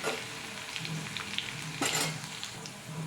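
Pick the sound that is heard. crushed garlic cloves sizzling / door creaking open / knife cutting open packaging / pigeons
crushed garlic cloves sizzling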